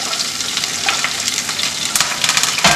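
Green chili, ginger, curry leaves and onion sautéing in hot oil, a loud, dense, close sizzle with quick stirring scrapes running throughout, no talking.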